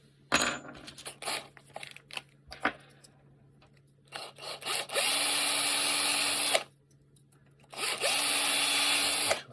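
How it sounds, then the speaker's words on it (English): Scattered clicks and taps of handling robot hand wrist parts, then an M3 drill bit whines in two sustained bursts, close and loud, with a brief pause between them. "can always use an M3 drill"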